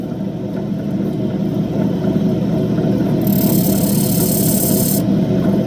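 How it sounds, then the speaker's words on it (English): Andamooka matrix opal being ground on a medium grit wheel, a steady loud grinding rasp with motor hum that runs continuously, brightening with a harsher high hiss in the middle stretch. "Okay, that's all we're going to go on the medium grit wheel"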